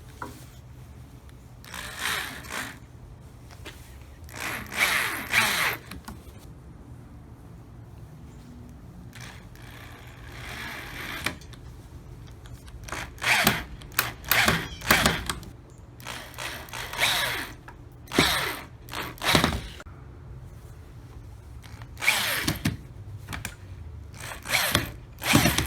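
A power driver sinks screws into the legs of a wooden dining chair. Several short whirring bursts are separated by quiet pauses, nearby and fairly faint, with no speech.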